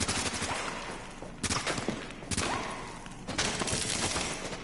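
Sustained automatic gunfire from a firefight in the video game The Division, dense overlapping bursts of shots with sharp louder volleys breaking through, continuous and close with no talk.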